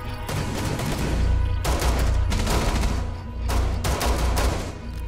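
Pistol gunfire during a Rainbow Six Siege team deathmatch on the Oregon map, heard as dense, loud bursts of rapid shots in several clusters with brief gaps between them, close and sustained over game noise.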